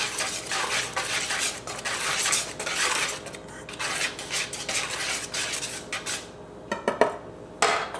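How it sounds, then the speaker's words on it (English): Biscuit ingredients are stirred together in a bowl, giving close scraping and clinking strokes in uneven bursts, louder in the middle and tapering with a few sharp knocks near the end. "you're going to mix that all together, combine all the ingredients."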